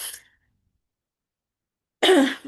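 A single close cough breaks a stretch of silence, with the tail of another sound at the start.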